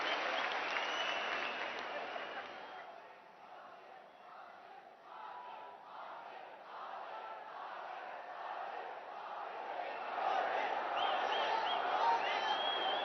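A large crowd at a development launch event with PM Modi in Mysuru, Karnataka applauds and cheers in a long, broad roar that dips, then swells louder toward the end, heard from a distance.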